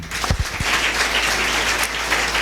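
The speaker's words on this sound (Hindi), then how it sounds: "प्रभु के लिए ताली बजाओ" A church congregation claps together for the Lord during a Sunday service, a steady wash of many hands sustained throughout, with a few low thumps near the start.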